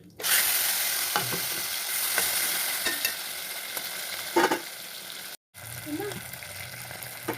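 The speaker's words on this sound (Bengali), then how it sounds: "ইঁচড় ভাজা তেলের ভিতরে আমি চিংড়ি মাছগুলো দিয়ে দেবো" Prawns sizzle loudly in hot oil used to fry green jackfruit, a steady crackling fry broken by utensil scrapes and stirring clinks, with a brief cut near the end.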